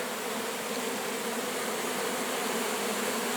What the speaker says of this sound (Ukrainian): Рій прошується до мене у відводичок.